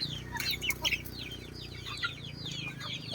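Jolohano, also called Basilan, chickens cluck in a farm yard with soft, repeated chirps and clucks scattered throughout over a low background hum, fairly quiet and at moderate distance.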